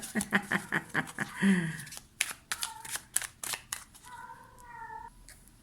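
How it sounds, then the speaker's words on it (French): A house cat meows repeatedly indoors in a rapid, rising series of close, fairly loud calls, with a woman's French speech in between and after. "Excusez-moi, j'ai mon chat qui chante."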